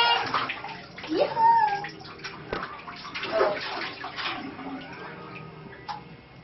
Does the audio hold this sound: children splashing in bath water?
yes